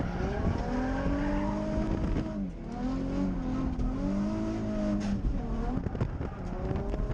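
Several drift cars run in tandem at Willow Springs Raceway, a white BMW chasing a red S13, engines wailing and rising and falling in pitch with steady tire roar throughout, loud and continuous.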